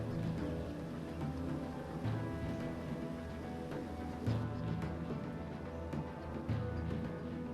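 Steady rain falls in the survival game Neo Scavenger, a constant hiss of drops with a few faint rumbles, heard alone without speech.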